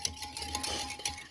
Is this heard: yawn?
no